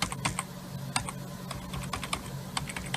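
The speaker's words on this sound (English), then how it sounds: "I'm using the arrow keyboards keys to advance frame to frame to frame." Arrow keys on a computer keyboard tapped repeatedly to step through video frames, a steady run of close, crisp clicks with no talking.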